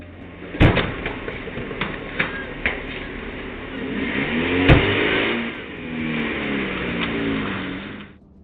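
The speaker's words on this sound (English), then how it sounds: "With what they have, they quickly drive away from the street." A car accelerates and drives off down a street, its engine rising steadily after a few sharp knocks and thumps that could be doors, loud and close with no one talking.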